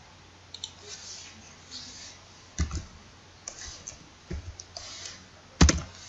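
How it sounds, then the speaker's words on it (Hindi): Sparse keystrokes on a computer keyboard as values are typed into a Microsoft Excel spreadsheet: a handful of scattered clicks and short bursts, close and fairly quiet, with no talking. "हम यहाँ पर इसको मैनुअल टाइप करते हैं।"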